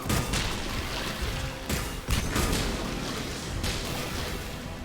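Dense gunfire in a Mass Effect 3 firefight at a checkpoint, with a steady barrage of shots and heavier booming impacts that barely let up, loud and close throughout.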